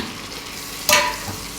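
Tomatoes dropped into a hot frying pan for a mixed saag dish, a sudden loud sizzle burst that quickly settles into a quieter fry, with a small clink of stirring after.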